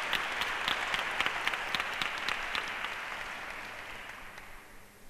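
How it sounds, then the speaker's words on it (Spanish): At a conference on sexuality and affectivity in cerebral palsy, an audience applauds after a talk, with a dense, steady wash of many hands clapping from across the room that tapers off near the end. "Si aplaudís igual después de cada una, que está bien, porque nos motiva"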